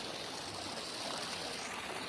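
Water flows steadily through a farm channel in a soft, even rush that stays faint and continuous with no talk over it.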